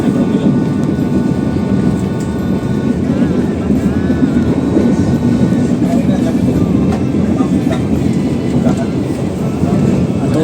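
A passenger train running past Patuburan station through dense forest, heard from inside as a loud, steady rumble and roar of wheels on rail with faint clicking, constant throughout with no pause.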